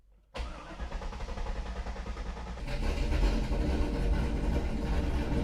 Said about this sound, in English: Let's try to crank this.